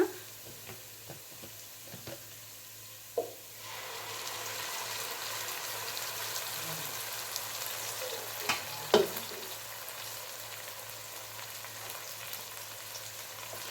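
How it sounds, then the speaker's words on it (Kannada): Ground tomato dropped into hot oil with onion for an okra gojju, bursting into a steady sizzle after a few soft clinks and stirs, frying on continuously with occasional utensil taps, fairly quiet and close. "ಟೊಮೆಟೊನು ಎಣ್ಣೆಯಲ್ಲಿ ಫ್ರೈ ಮಾಡಿಬಿಡೋಣ"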